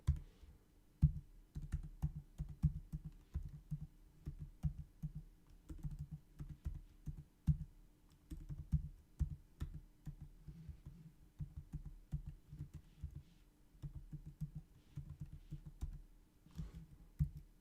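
Rapid, uneven keystrokes on a computer keyboard while entering GitHub client credentials, close and clear with irregular bursts of clicks and no voice over them.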